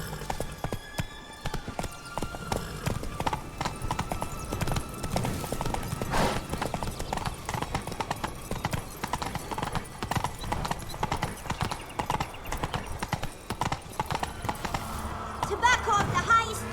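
Roach the horse gallops in The Witcher 3, a dense continuous drumming of hooves throughout, with a voice speaking over the running and a brighter chiming sound near the end.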